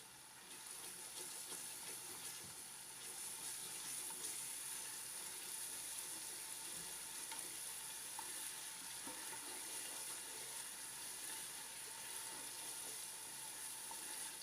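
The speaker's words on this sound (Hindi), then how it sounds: "और 2 से 3 मिनट तक मज़ीद हम मसाले को भून लेंगे।" Spices and about two tablespoons of tomato paste frying in a pan for chana daal, a steady, even sizzling hiss running throughout, close and moderately faint, no talking.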